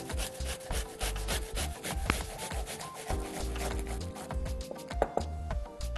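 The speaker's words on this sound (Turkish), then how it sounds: "şimdi soğanımızı rendeleyeceğim ince tarafıyla" An onion grated on the fine side of a grater in a kitchen, steady rhythmic rasping strokes repeating close up for several seconds with no talking.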